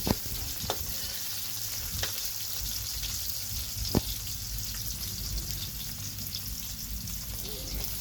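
Seasonings sautéing in a pan for a Filipino bitter gourd (ampalaya) with egg dish, a steady soft sizzle with a few sharp clicks of a utensil against the pan, no talking.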